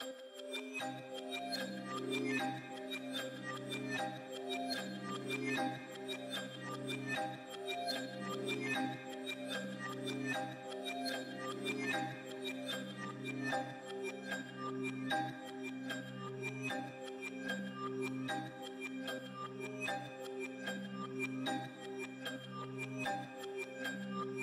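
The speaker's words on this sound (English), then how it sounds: "It basically reverses the melody, and then it also adds like a delay." A bright, bell-like reversed melody with glassy chiming tones plays steadily, its notes smeared and echoing with repeating delay tails, no voices present.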